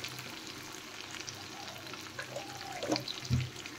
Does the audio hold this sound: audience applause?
no